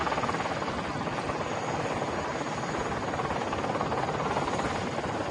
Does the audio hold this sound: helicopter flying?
yes